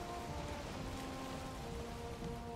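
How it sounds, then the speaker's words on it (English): Rain falls in the Valheim game world, a soft, steady patter on surfaces, quiet and continuous with no voices. "Is it just raining at the island or something?"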